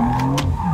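Video game car engine holding a strained, steady drone as it accelerates and drifts to the left, close and loud through a short burst.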